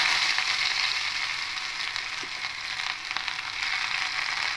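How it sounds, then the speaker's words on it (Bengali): Chopped onions sizzle and crackle in mustard oil in a small pan, a steady bright hiss with scattered pops, close and continuous, with no talking. "এবার তেলের মধ্যে পেঁয়াজ কুচিগুলো দিয়ে দেবো"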